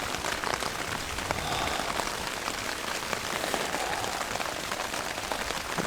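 Steady rain patters densely on a tent close by, a constant hiss of drops with no voices.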